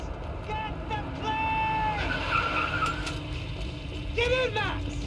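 Tires squeal as a car skids hard in the Max Payne 3 video game, several long screeches over a constant engine roar, loud and close, with game dialogue shouted over the top.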